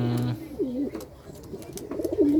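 Wet pigeons just back from bathing give soft, low coos in short rolling phrases, close by and fairly loud, with a little background noise.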